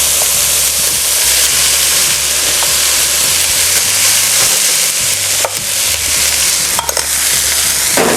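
Fried rice with plenty of mixed meats sizzles loudly in a pan, a constant dense hiss broken by occasional scraping stirs close up, with no talking.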